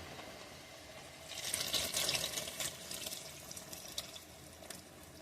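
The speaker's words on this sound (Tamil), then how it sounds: "அந்த புளி கரைசலை ஊத்துக்கிறோம்" Tamarind extract poured into a dried fish curry in a home kitchen gives a soft liquid splash that swells midway and then settles into faint trickling and dripping, heard close with no talk.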